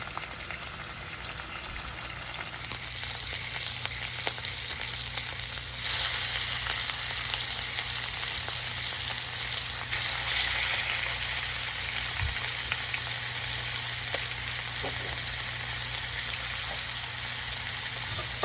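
Cubed pork tenderloins, run twice through a cuber, fry in a pan for a country breakfast, giving a steady, dense sizzle that grows slightly louder partway through and continues unbroken, close and with no voices.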